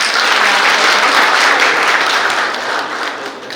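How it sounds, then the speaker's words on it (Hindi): Loud, sustained applause from a crowd at a housewarming ceremony, many hands clapping densely and evenly before easing slightly toward the end. "एक बार और जोरदार तालियों से।"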